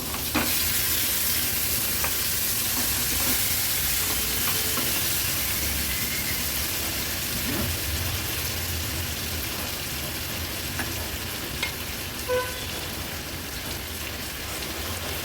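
Steady, loud sizzling of mangoes frying in a hot oil tempering, a continuous crackle with occasional soft stirring clinks.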